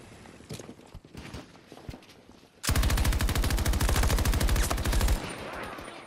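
Automatic gunfire in Battlefield 2042 team deathmatch, a loud, close, rapid-fire burst lasting a couple of seconds that follows scattered softer game noises and then cuts off abruptly.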